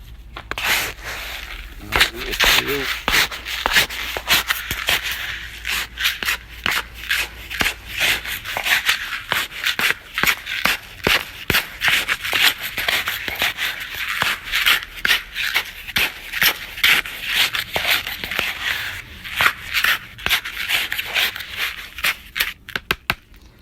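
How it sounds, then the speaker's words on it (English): A growing mix for leeks stirred and mixed by hand, a continuous close rhythmic rubbing and shuffling of soil-like material throughout. "I'm now going to give that a good mix up."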